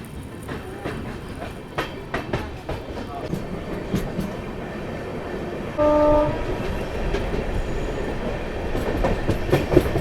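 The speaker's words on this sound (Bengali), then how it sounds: "ছেড়ে দিল বর্ধমান জংশন রেলওয়ে স্টেশন থেকে" The Vibhuti Express, with new LHB coaches, rumbles along loudly after leaving Bardhaman Junction, with rhythmic clatter of wheels on track, a brief horn blast midway, and faint voices in the background.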